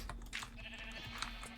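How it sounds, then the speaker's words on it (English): Sheep bleating inside a pen in a Minecraft-style village game, several soft bleats spread across the moment over a steady background hum, fairly quiet and not close. "there are sheep in a pen"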